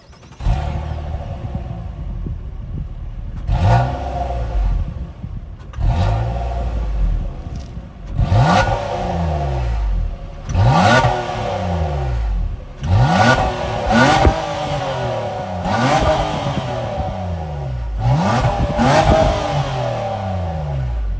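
A 2023 Nissan Maxima Platinum's 3.5-liter VQ V6 revs repeatedly through its exhaust, five or six sharp climbs and falls in turn, loud and close, with no talking.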